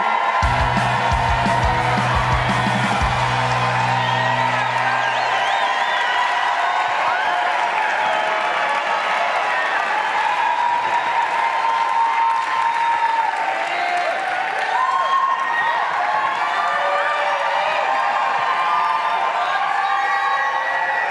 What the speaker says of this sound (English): I think she's milking the applause